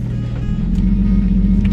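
A Lexus IS300 on the road, steady low engine rumble and tire drone from inside the cabin, continuous and fairly loud with no talking.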